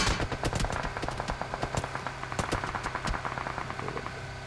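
Rapid automatic gunfire in the BGMI battle royale video game, with repeated bursts of sharp shots and a few single cracks spread across the clip, loud and close, with no talking.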